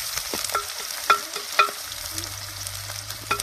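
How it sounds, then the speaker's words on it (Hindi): Onion and garlic frying in hot oil for a traditional Jharkhand greens-and-potato dish, a soft steady sizzle broken by sharp scraping stirs of a spoon in the pan. "तेल गरम हो चुका है, तो अभी प्याज लहसुन सब डालेंगे। तो देखिए हम लोग प्याज लहसुन सब डाल दिए हैं।"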